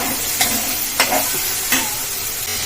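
Cucumber curry being stirred in a pan, a few distinct scraping spoon strokes spaced about half a second apart over a continuous soft sizzle, close by with no voices.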